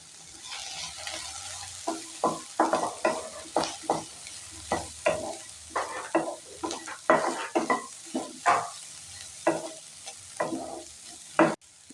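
Potato and chopped garlic frying in a pan, a soft continuous sizzle with regular scraping stirs of a spatula, about a dozen strokes, close and moderately quiet, no speech.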